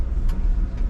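A V8 truck engine running, a steady close low rumble that holds through the brief moment with no one talking.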